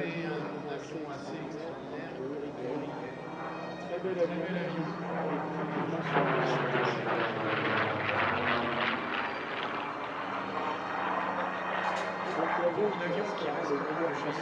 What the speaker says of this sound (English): it was the turn of the Spitfire, a PR-14 photo reconnaissance variant from the W Air collection